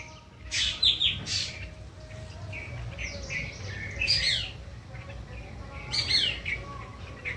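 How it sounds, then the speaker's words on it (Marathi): Sparrows chirp in quick clustered bursts at intervals, moderately close, over a faint steady hum and low background noise. "चिमणीचा कलकला टाईप येतो"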